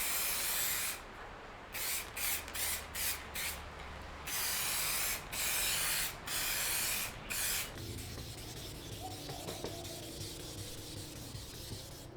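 A series of short, loud aerosol bursts of clear coat hit a Subaru Forester headlight inside a shed, sprays coming in quick repeated puffs, then giving way to a quieter stretch of faint rustling.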